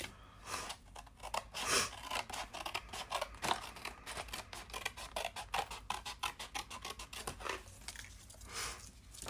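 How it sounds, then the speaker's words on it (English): Scissors snip through paper card for a chocolate box in a fast run of close, crisp cuts with a few brief pauses, heard alone without any talking. "Cut down to that second score line and then just cut the rest of this off."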